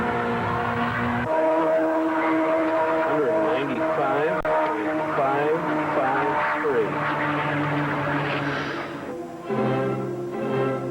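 Race car at a 1986 speed-record attempt lapping a racetrack near 195 mph, a loud sustained engine drone with rising and falling pitch sweeps as it passes, fading slightly near the end.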